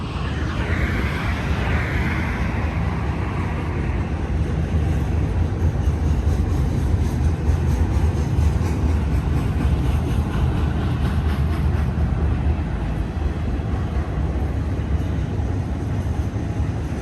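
A BNSF westbound intermodal freight train rumbles past on Cajon Pass at Blue Cut along Route 66, a loud, steady roar of engines and rolling cars with grinding rail noise throughout.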